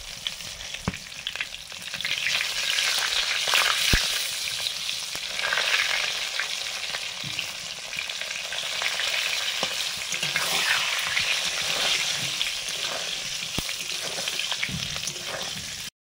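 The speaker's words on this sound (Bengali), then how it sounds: "আলুগুলো ভাজা হয়ে গেছে।" Steady, loud sizzling of potatoes frying in oil with salt and turmeric in a pan, with occasional stirring clicks and scrapes throughout, no talking.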